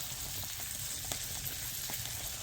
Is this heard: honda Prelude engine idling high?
no